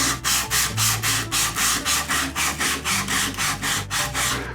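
Sandpaper rubbing back and forth along the grain of a wooden tractor-and-trailer toy piece, a steady rhythmic series of about fifteen close, even strokes with no talking.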